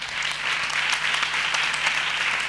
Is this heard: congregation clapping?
yes